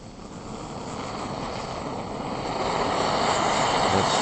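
A SOTO Micro Regulator gas stove burns at full blast with a steady, loud, rushing roar that grows slightly stronger over a few seconds. No voices are heard.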